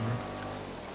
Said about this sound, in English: all this rain and everything